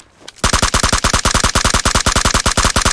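Rapid automatic gunfire from a weapon in the shooter game PUBG Mobile, a loud sustained burst of evenly spaced shots that starts after a brief quiet moment and keeps firing steadily to the end.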